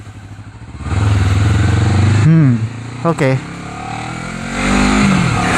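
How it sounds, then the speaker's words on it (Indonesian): Honda CBR250RR fitted with a 3Tech Evox X5 silent black exhaust revs in a few loud blips with rising and falling pitch, then settles back to a steady idle, while someone talks briefly over it. "Kita akan gas nih knalpot X5 SB di motor CBR"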